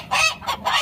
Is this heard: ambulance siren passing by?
no